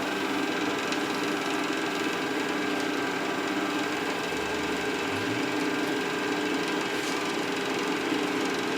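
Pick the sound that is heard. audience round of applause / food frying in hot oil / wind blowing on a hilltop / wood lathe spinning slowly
wood lathe spinning slowly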